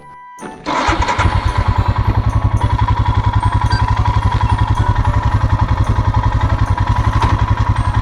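A touring motorcycle starts up after a short pause, then idles and pulls away with a loud, close, steady rhythmic engine putter that continues to the end.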